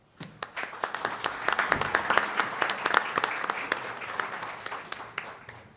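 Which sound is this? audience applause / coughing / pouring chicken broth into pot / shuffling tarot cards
audience applause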